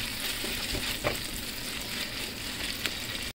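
Thin, small pieces of chicken breast fry with garlic in a pan, giving a continuous close, even sizzle with a couple of faint stirring knocks, and no voices.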